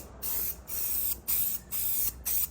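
Aerosol spray primer hisses from a can onto an engine short block of a Toyota 1FZ-FE, five short bursts with brief pauses between them, close and steady.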